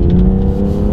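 A BMW M2 engine runs loud and close with a steady, deep droning hum, revving in one continuous burst.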